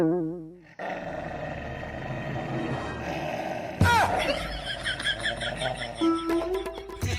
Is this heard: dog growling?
yes